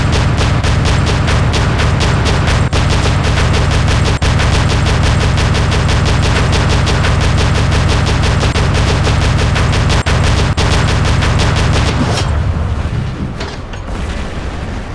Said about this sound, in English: do them big guns sound cool when they get going